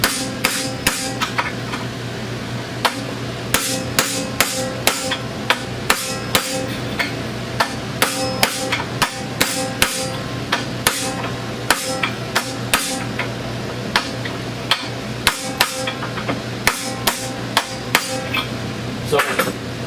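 A hammer strikes a small piece of pipe set on a Chrysler Sebring lower ball joint to press it, giving sharp metallic blows at an irregular pace, some louder than others, over a steady background hum.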